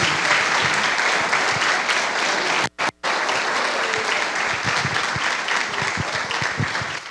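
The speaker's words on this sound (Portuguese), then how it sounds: "Eu vou pedir só para os vencedores aplaudirem ao Senhor." A church congregation applauds steadily for several seconds, a dense, loud wash of clapping that briefly cuts out twice before carrying on.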